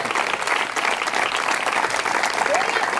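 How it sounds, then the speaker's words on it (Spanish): A church congregation claps loudly and continuously, a thick wash of hands with crowd voices mixed in throughout. "Dale fuerte ese aplauso si es para él"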